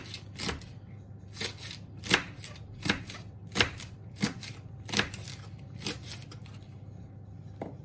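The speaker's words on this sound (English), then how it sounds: "Now we're going to start slicing our spring onions." A knife slices through spring onions on a board in a slow, regular series of crisp cuts, about one every second, close and distinct over a low background hum.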